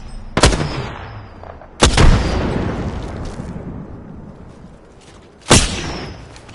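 Three separate loud booming gunshots in Apex Legends, each a sharp close blast with a rolling tail, spaced irregularly over a few seconds with no talk.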